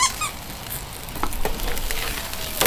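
Doenjang stew sizzles and bubbles in a pot over a campsite fire, a steady close crackling hiss that swells slightly near the end.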